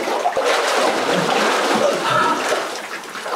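Icy water splashes and rushes through an underground drainage channel beneath an old narrow-gauge railway, a close, steady, hissing wash that carries on without a break and with no talk.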